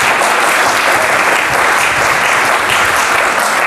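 A packed hall in Tel Aviv greets a visiting rabbi's lecture with loud, continuous applause from many hands, a thick, even wash of clapping throughout.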